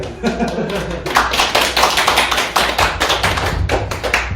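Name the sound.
applause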